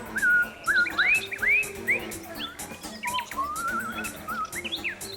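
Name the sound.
nightingale song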